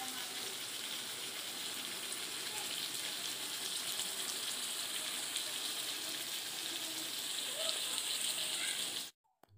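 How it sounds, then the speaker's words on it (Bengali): Meat sautés with spices in a pan, a steady, close sizzle and crackle that holds evenly for several seconds before cutting off abruptly near the end. "দিয়ে সমস্ত মশলা দিয়ে মাংসটাকে কষাচ্ছি।"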